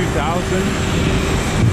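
Aircraft engines drone loudly across a busy Moscow airport tarmac while passengers queue to board an Aeroflot plane, a steady roar with voices close by.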